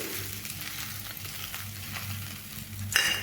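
Pre-fried potatoes tipped into a sizzling pan of chana dal curry, a steady close hiss of frying with stirring, ending in a sharper burst of sizzle as they land.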